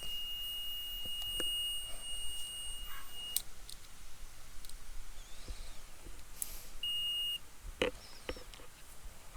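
A multimeter's continuity buzzer gives two sustained electronic beeps, each lasting a couple of seconds, over faint background hiss and scattered clicks, while testing an HP laptop 45W AC adapter.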